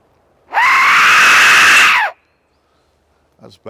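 Death whistle blown openly in a forest at Cannock Chase, producing one loud, close scream-like shriek of about a second and a half, followed by silence and a faint brief sound near the end.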